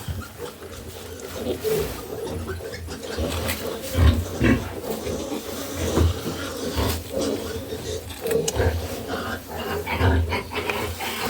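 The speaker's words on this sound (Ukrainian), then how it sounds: "Це настояща свинья" A sow in a farrowing pen grunts low and throaty again and again at close range, with short snorts spread irregularly across the stretch and some shuffling and faint voices around them.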